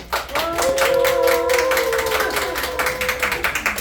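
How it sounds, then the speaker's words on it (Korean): Audience clapping for a pastor being introduced at a Korean church book talk, steady crowd applause with a held tone or voice line running through it. "목사님 박수로"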